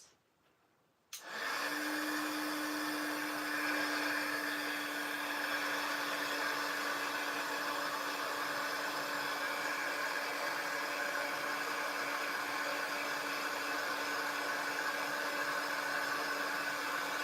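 A heat tool or dryer switches on after a brief silence and runs steadily to dry freshly stamped paper craft layers, a loud continuous whooshing blow with a constant motor hum.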